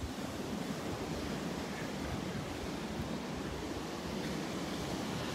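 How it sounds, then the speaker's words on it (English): Ocean surf and wind on a Gulf beach at Delnor-Wiggins make a continuous broad roar, wave wash blending with wind buffeting, steady and fairly loud with no voices. "Get back down on the beach, back to the wind and the waves."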